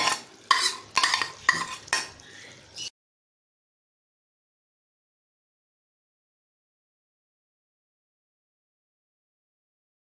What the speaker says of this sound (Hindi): ये अच्छी तरह से मिक्स करेंगे इसको इस तरह से